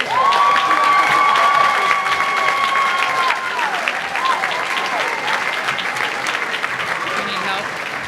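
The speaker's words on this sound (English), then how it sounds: "Now you can clap." An audience at a senior awards ceremony applauds, continuous close clapping mixed with a few cheers and whistles that runs throughout, with voices faintly mixed in beneath it.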